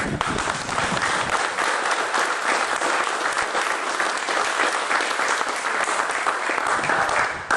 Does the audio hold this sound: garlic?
no